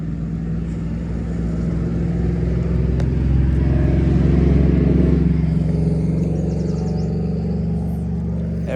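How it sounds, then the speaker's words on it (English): A car with a loud aftermarket muffler rumbles past near a fishing pond, its deep exhaust drone swelling as it nears and fading away, with no speech. "Everybody seems to think that they need a loud muffler around here for some reason."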